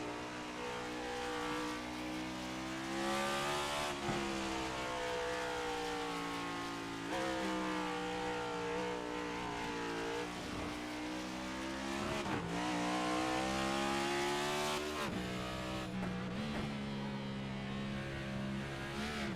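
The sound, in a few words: race car engine on board number 8 car, racing video game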